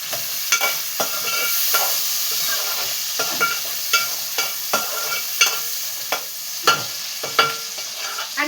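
Onions and chicken fry in oil with a continuous hiss, broken by repeated scraping and stirring strokes of a spoon against the pan.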